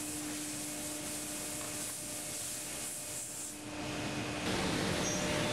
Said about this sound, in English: The CNC goes to work, making all the enclosure parts